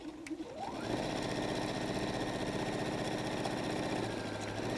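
Sewing machine on a messenger bag at stitch length 2.5: after a brief pause the motor spins up and runs a steady, close, continuous seam alone for several seconds.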